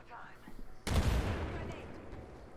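A grenade explodes in a first-person video game with a sudden loud blast that rumbles on and slowly decays, followed by lingering debris and noise, with players chatting around it.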